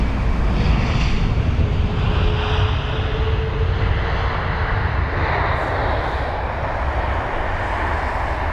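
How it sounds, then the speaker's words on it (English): A six-year-old Singapore Airlines Airbus A380, registration 9V-SKU, at London Heathrow gives a loud, steady broadband jet roar that is constant for the whole stretch, with wind buffeting the microphone and no voices. "There you are, the Singapore 380."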